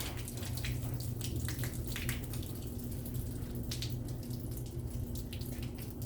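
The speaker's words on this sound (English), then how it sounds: "I'm going to shut my water off" Water runs steadily from a tap in a continuous rushing hiss with faint splashes, close and unbroken for several seconds, with no voices.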